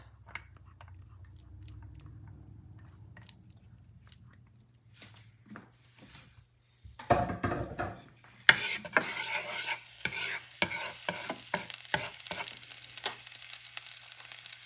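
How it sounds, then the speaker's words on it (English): Chopped onions dropped into a pan of hot annatto oil, a quiet low hum at first, then a sudden burst of sizzling that continues under repeated scraping, clattering stirs, close and growing louder. "What I'm going to do now, I'm going to put the chopped onions"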